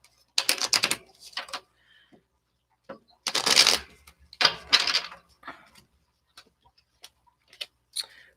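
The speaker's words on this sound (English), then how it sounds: "I'm going to shuffle." Tarot cards being shuffled in several quick riffling bursts separated by short pauses, close and crisp, with light taps between.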